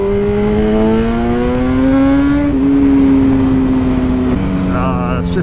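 A 2010 BMW S1000RR motorcycle with an Akrapovic exhaust revs steadily and loudly up close, its pitch climbing and holding, then stepping down with the throttle, with a rushing wet-road wind underneath.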